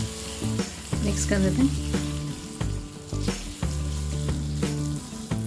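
A tadka of cashews fried in hot oil sizzles and crackles loudly as it is stirred into foxtail millet pongal, with a continuous frying hiss and scraping of the spoon; a voice speaks briefly.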